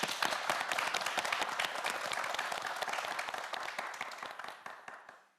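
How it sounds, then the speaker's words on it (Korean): Studio audience applauding students on a televised quiz show, a dense, steady wash of many hands clapping for several seconds before tapering off at the end. "네 학생 모두에게 다시 한번 힘찬 박수 부탁드립니다"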